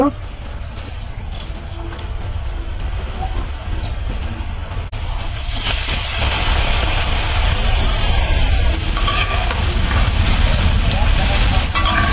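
Radish greens fry and get stirred in a pan, a steady close sizzle that grows louder and denser partway through, with scraping and stirring sounds throughout.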